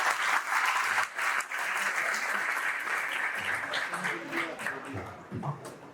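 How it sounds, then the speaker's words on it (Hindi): An audience in a hall at a university program bursts into sustained applause, a dense wash of many hands clapping that holds steady for several seconds before thinning, with some voices mixed in. "एक बार ताली तो बनता है आपके."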